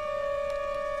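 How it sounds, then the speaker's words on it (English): Disco sirens sound in a video game as a steady electronic tone held constant for about a second, moderately loud with no voices. "I'm in love with the disco sirens."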